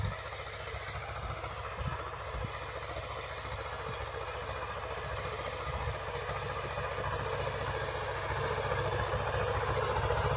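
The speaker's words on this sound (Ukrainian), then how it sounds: "Трактор Т-3069," A T-3069 tractor engine runs steadily with a low, continuous rumble and rattle, nearby and constant throughout, no voices, while hilling potatoes.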